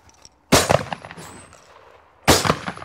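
Two sharp, loud shotgun blasts ring out during hunting practice, roughly two seconds apart, each with a short echoing tail and a quiet gap between.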